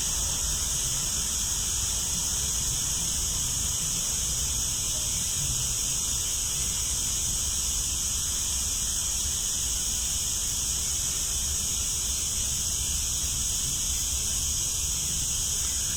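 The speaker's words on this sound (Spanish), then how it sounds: "hay un poquito de ruido de grillos" Crickets in a forest trill in a constant high-pitched chorus, steady and unbroken throughout, forming a dense background with no other sounds standing out.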